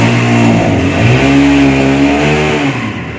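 A self-started auto rickshaw engine runs loud and close, its rough idle rising into a brief rev with a shifting tone before settling again.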